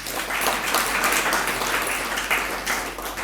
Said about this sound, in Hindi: ऐसे बजाई जाती है ताली।